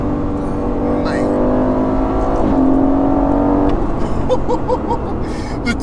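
A twin-turbo 503 bhp V8 Aston Martin Vantage accelerates hard, its engine note climbing through the revs with a couple of distinct shifts, heard from inside the car with people talking over the roar.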